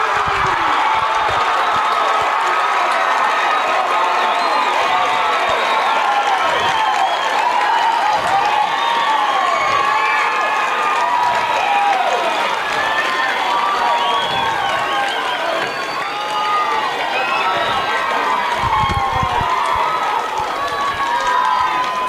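A large crowd at a Lehi vs Riverton high school baseball game cheers and shouts continuously, a loud sustained roar with scattered clapping and whistles, swelling slightly throughout.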